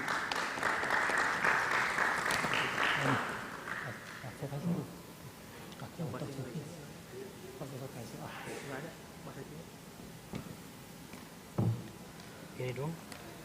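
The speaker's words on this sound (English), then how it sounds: "let's give a round of applause to our 4 distinguished guest speakers." An audience at a symposium on digital transformation in higher education gives a round of applause to four panel speakers for about four seconds, then it fades into murmured talk and a few scattered claps.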